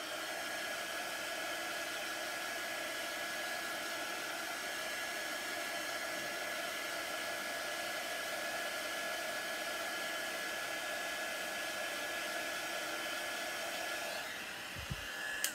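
A hair dryer blows steadily and loudly to dry paint on a small wooden beehive craft piece, a constant whooshing hum that runs almost the whole time before cutting off near the end, with no talking.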